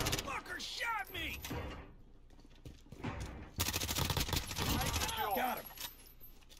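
Shooter video game gunfire in a capture-the-zones match, with clustered bursts of shots and clattering game effects mixed with a talking voice across the clip.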